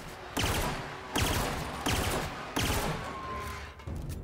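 Bolter Pistol fire in the video game The Outer Worlds comes in four loud bursts of rapid shots, each cracking sharply and then trailing off before the next burst.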